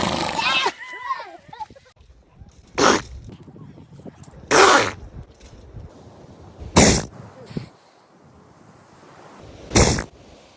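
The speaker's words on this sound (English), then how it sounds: "Their dog has the weirdest sneezes ever" A dog lets out a run of odd, explosive sneezes, four sharp bursts spaced a couple of seconds apart, with softer snorts and a voice in between.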